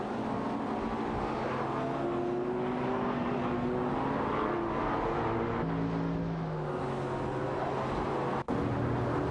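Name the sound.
race cars (McLaren MP4-12C, Porsche 911 GT2 RS) in a racing video game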